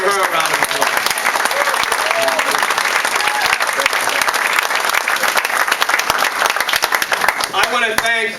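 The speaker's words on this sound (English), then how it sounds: "So let's give her a round of applause." An audience at a women's campaign endorsement event for a senate candidate applauds his wife with loud, sustained clapping that fills the room for several seconds.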